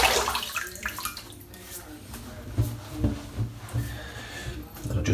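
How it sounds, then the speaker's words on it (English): Water splashed by hand onto a face before a wet shave, several uneven wet splashes and drips close by, with a faint tub sound between them. "I'll wet the face."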